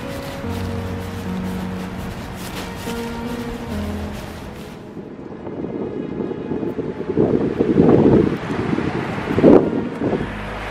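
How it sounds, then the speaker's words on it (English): Gusty wind roars and rumbles around a tent in the Cuvier Valley, swelling in strong buffets with flapping fabric noise, loud and close, with no speech. "it sounds pretty windy here in the tent anyway."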